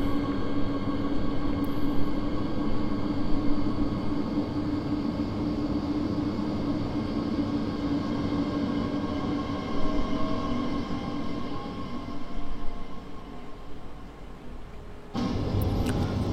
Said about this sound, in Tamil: ஸோ நம்மளுடைய ட்ரெயினும் இங்கேருந்து கிளம்பியாச்சு.